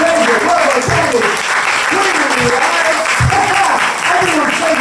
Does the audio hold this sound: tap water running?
no